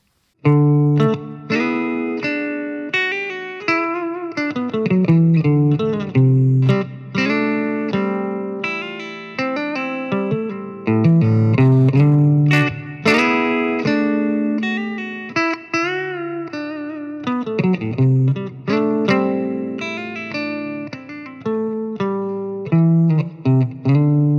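An electric guitar plays through a Fender Champion II 25 amplifier with effects, sustained chords and melodic lines with a chorused, slightly driven tone, continuous and loud without talking.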